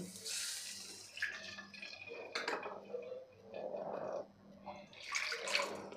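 Water is poured into a pan for cooking barnyard millet, in a few splashing bursts, close and fairly quiet, with a faint clink of metal between pours.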